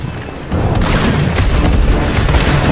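Flame rounds and explosives go off in Resident Evil 3 Remake, a deep rumbling boom that starts suddenly and rolls on loud and sustained with crackling bursts layered within.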